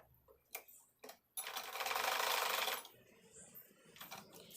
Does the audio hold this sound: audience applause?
no